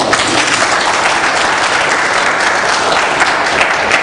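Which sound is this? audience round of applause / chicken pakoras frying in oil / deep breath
audience round of applause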